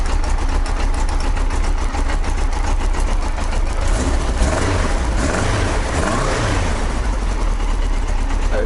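A Yamaha XJ900 Diversion motorcycle engine runs without the choke on, holding a loud, steady, close idle with a slight swell in revs midway.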